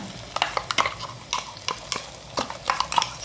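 A spoon scrapes and stirs ground masala with ginger frying in oil in a pan for a Mangalorean lady fish curry. Quick, uneven clinking strokes sound close over a low sizzle.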